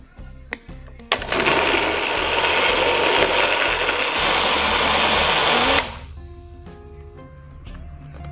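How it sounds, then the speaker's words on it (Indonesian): An electric kitchen blender whirs loudly and steadily for about five seconds, grinding spice paste with a little water, then cuts off and leaves quieter kitchen sounds. "Kita tambahkan sedikit air untuk memblender."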